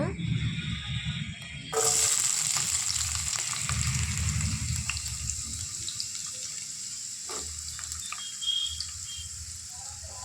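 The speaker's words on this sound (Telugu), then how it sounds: "అదే ఆయిల్లో ముందుగా కట్ చేసి పెట్టుకున్న ఆనియన్స్ దాంట్లో వేసుకోవాలన్నమాట" Oil suddenly erupts into a loud, steady sizzle as cut onions hit the pan for a dried shrimp and tomato curry, hissing continuously with faint scraping and soft voices in the background.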